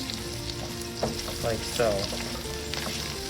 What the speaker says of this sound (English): So we'll just take them up to the top and we'll stir them in